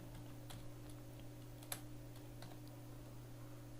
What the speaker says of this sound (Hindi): मैं जा रहा हूँ सीधा टाइप कर रहा हूँ एशियन